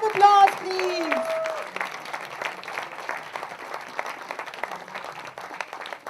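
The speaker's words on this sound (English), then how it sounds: "Big round of applause, please" An audience at a film music launch breaks into moderate applause, with a brief tonal voice-like sound at the start before the steady clapping continues at mid distance.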